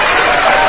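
Dense applause from a studio audience, loud and continuous through a brief moment with no pauses.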